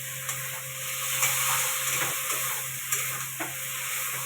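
Potatoes fry and sizzle steadily in a pan, with a continuous hiss and occasional soft scraping clicks as they are stirred, close and fairly quiet, with no voices.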